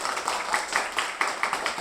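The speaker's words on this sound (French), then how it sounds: "Leïla la jument, applaudissez-la." A circus audience applauds for Leïla the mare, a steady stream of many hands clapping with rhythmic swells, moderately close and filling the space, without talking over it.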